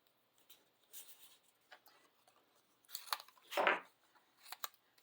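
Small snips cut away card or paper scraps from a die-cut floral design: a few quiet, crisp snipping clicks, close and sparse, with faint rustling of paper between cuts and no talking.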